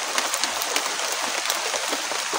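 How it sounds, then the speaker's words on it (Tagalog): Heavy rain pours down steadily in a dense, even hiss flecked with scattered drop impacts, with no voices present. "ulan na talaga to."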